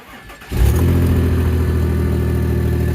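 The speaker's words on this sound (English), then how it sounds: "So I guess I'm ready to give the car a start." A 2004 Mazda 6 engine cranks briefly, catches and starts, then settles into a loud, steady, close idle with an even hum; no one speaks.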